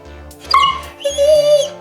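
A puppy whimpers and yips in short high whines, a few quick cries close to the microphone, with no talk.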